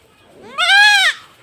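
A young goat kid lets out a single clear, close bleat that rises and falls over about half a second, ringing out against an otherwise quiet background.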